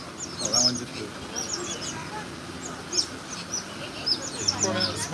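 Birds at Discovery Cove in Orlando give scattered high chirps and a few honking calls amid a busy outdoor background, with people talking nearby.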